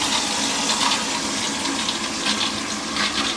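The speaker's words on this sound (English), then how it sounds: "a stream of fine spray of water coming out from the top of that pipe, spraying all over" Fine spray of water hisses steadily from the top of a leaking shower pipe inside a wall, a loud, continuous rush with no pauses.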